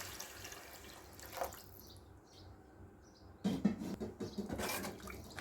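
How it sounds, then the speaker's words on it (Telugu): Tamarind juice poured into a simmering fish curry: a short splash early on, then after a quiet stretch a denser, louder pouring and splashing that runs to the end, close by, with no voices. "ఇప్పుడు చింతపండు రసం వేసుకోవాలి."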